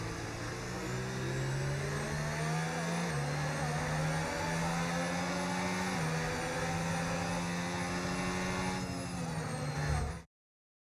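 Race cars lapping a circuit in a Formula 1 video game: a loud, steady engine whine with gear-shift steps in pitch runs continuously, then cuts off abruptly near the end.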